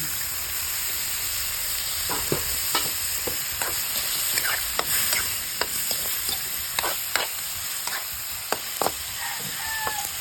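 About a kilo of squid stirred and frying in a pan, a steady close sizzle broken by repeated scraping knocks of the utensil against the pan, with no talking.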